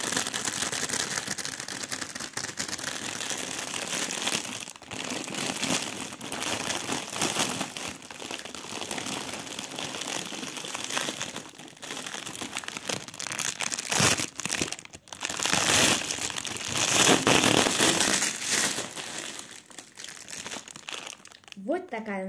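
Loud, continuous close crinkling and rustling of plastic packaging while a parcel of rabbit supplies, including a hay feeder, is unpacked, with a voice talking intermittently.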